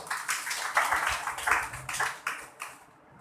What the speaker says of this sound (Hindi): ताली बजाएंगे उसके लिए